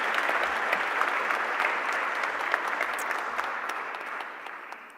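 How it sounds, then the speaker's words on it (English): Audience at a ministerial summit welcoming a speaker with sustained, even applause, steady and full for the whole stretch before tapering slightly at the end. "I'd like us to welcome her, please, with a resounding round of applause."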